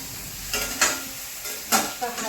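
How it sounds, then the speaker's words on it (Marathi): Turmeric is sautéed in a pan over low heat: a steady soft sizzle with two or three brief louder scraping stir strokes, close and fairly quiet, with no talking. "हळद टाकली, हळद चांगला आता मी परतवून घेते."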